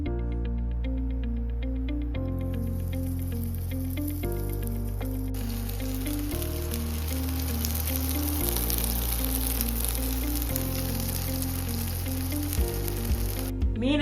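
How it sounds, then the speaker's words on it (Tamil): Spiced fish for Kerala meen pollichathu sizzles in hot oil, a steady dense frying hiss that runs through the whole stretch, with a piano melody playing over it and no talking. "மீனை ஃப்ரை பண்ணி எடுக்க போறோம்."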